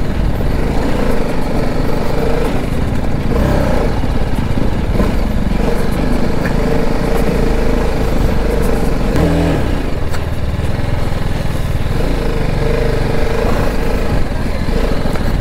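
Dirt bike engine grinding along a rocky, foggy off-road trail with large stones, a steady loud drone with uneven revs and clatter from the bike sliding, mostly alone with faint background chatter.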